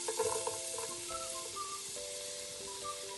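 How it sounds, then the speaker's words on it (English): Garlic sizzles in hot olive oil with a steady, bright hiss that holds throughout, with no voices. "Now the oil is hot. So now we're going to add garlic and onions."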